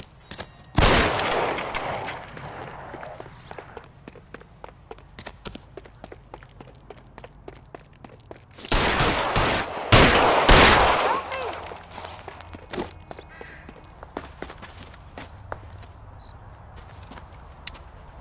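Gunfire in a video game police shootout, with two loud clusters of sharp shots near the start and around nine to eleven seconds, separated and followed by quieter rustling and footstep-like noises.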